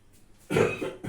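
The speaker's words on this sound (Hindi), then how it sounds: "तो सर्दी हो गई है, ये खांसता रहता हूं मैं" A single hoarse cough from a man with a cold bursts out after a short quiet lead-in, followed by a smaller second cough, close to the listener.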